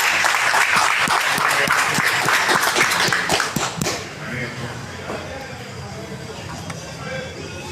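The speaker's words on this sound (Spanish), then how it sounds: "con el mismo espíritu y con el mismo aplauso lo recibimos" Audience applause at a history congress colloquium welcomes professor Alexis Hernández, dense clapping filling the first four seconds before fading into quiet room tone with faint movement.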